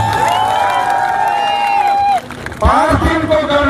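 A crowd at a political rally in Kohalpur roars with cheering and scattered clapping, sustained and loud, with raised voices and shouting. The noise dips briefly past the midpoint before swelling again.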